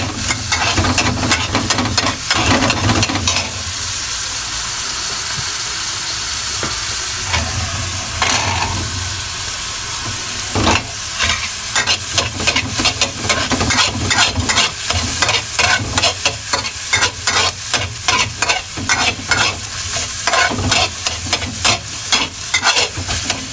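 Garlic sizzles steadily in a hot pan over medium heat while a utensil scrapes and stirs it in repeated quick strokes, loud and close, with no voices.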